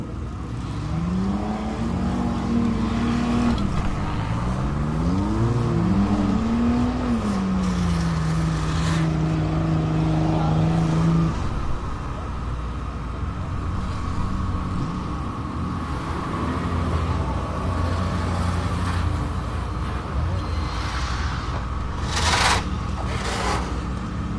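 Demolition derby cars race in an indoor winter arena in Long Prairie, Minnesota, with a steady roar of engines throughout and a rising, wavering engine whine that revs and falls for several seconds early on.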